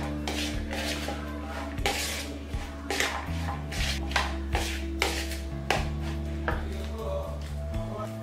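Paneer momo filling is mixed in a bowl with a utensil, producing rhythmic scraping and tapping strokes, roughly one per second, over a steady low background hum, close and fairly quiet, with no talking.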